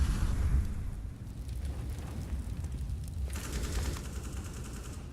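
Rapid bursts of gunfire in a Counter-Strike match at a PGL Major in Krakow, sustained and dense with overlapping shots, moderately loud with no talk over it.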